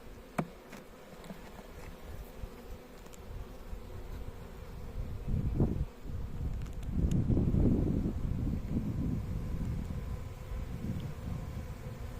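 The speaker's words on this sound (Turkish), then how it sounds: "Belki başka bir kovandan e, gelip de bu kovanı işgal etmek isteyen arılar mı var acaba?" Honeybees buzz around a hive where bees from a neighbouring colony have arrived, a continuous droning hum that swells louder midway as more bees pass near, with faint wind and rustling behind.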